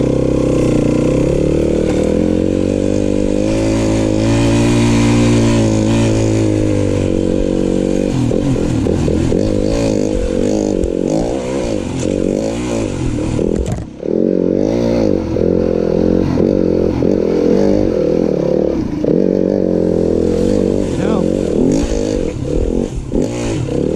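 Yamaha WR-F dirt bike with a sticking throttle, its engine revving loud and continuous at close range, pitch holding high then wavering and clattering, with no talk over it.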